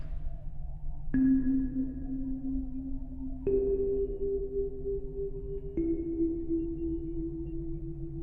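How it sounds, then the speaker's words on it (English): Sustained low synth-like tones change pitch three times, each attack ringing out into a long, washy tail of reverberation with no talking. "Now let's listen to the reverb. Just see just how good that reverb is."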